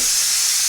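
Soda pouring with a steady bright fizz and hiss throughout, close and fairly loud, with no voices over it.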